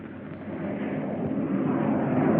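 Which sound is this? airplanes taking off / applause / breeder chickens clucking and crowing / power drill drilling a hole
airplanes taking off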